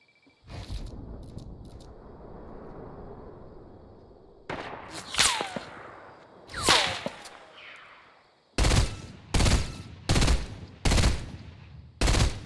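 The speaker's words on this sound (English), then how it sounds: "Where is this guy sniping me from?" Rifle shots in the video game Fortnite: first a few scattered sharp cracks with ringing tails, then a quick run of five loud, evenly spaced shots near the end.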